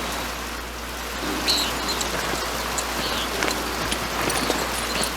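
Rain falls steadily in the medieval world of the video game Pentiment, an even hiss of drops on surfaces that holds through the whole stretch with no voices.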